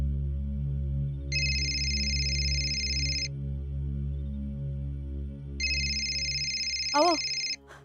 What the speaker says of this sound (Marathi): समाधान भाऊजींचा फोन आहे.